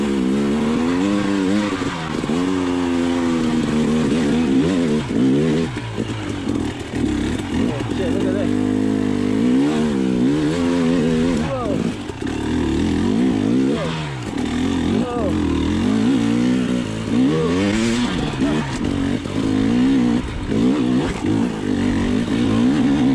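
A 2020 KTM 300xc TPI two-stroke dirt bike rides an off-road canyon trail, its engine loud and close throughout with constant revving and pitch swings as the rider shifts and accelerates.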